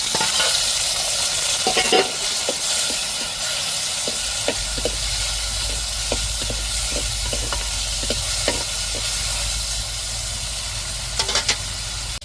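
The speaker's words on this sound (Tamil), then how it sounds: "இப்போ தக்காளி மிளகாயும் போட்டு தாளிப்பில் வதக்கி விட்ருவோம்" Steady sizzling of tomatoes and chilies sautéing in a hot pan of tempering for a fish curry, with repeated clicks and scrapes of a spoon stirring, close up.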